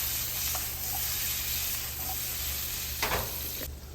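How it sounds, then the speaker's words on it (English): Steady, crackling sizzle of peppers in a hot frying pan, with a few light scrapes and clicks of stirring near the end. "we're gonna get our peppers onto the frying pan and let those sear up a little"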